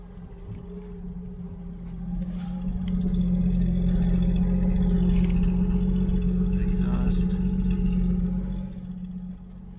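A 1972 Chevy Nova engine idling steadily with a low, even rumble that swells louder in the middle and then eases back, with faint clatter on top.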